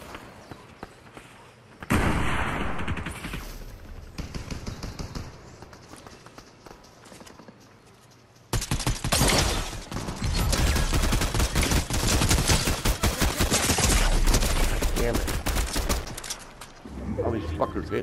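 Video game gunfire, rapid bursts of shots with quick footsteps, quiet at first and then loud and dense in two long stretches, with people talking over it.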